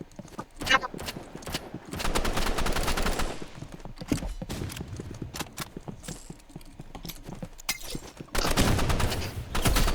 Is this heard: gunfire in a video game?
yes